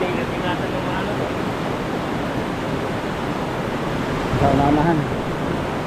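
A strong river current rushes in a steady, broadband wash near a fishing spot, with a brief voice speaking over it toward the end.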